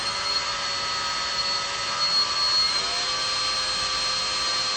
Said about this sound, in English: I'm going to twist these with a variable speed power drill